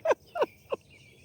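Robins at a state park campground on a warm evening, giving three loud, sharp descending calls in quick succession, spaced roughly a third of a second apart, close by and standing out clearly above a quiet background.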